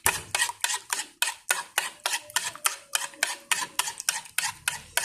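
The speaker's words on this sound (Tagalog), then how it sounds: "Haluin ulit natin mga kaguro." Fish mixture with seasoning stirred in a bowl with a utensil, giving a steady run of brisk scraping strokes about two or three per second, close and clear with no talking.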